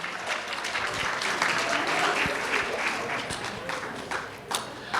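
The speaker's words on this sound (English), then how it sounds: "Give yourselves a hand clap." Sustained applause from a crowd, dense clapping filling the whole stretch at a steady level, with a few louder individual claps near the end.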